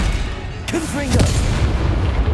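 The Confringo fire spell explodes in the Hogwarts Legacy video game as a deep booming blast that rumbles on beneath a brief spoken voice.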